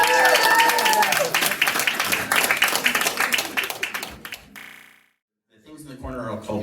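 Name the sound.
audience cheering and clapping for Bunny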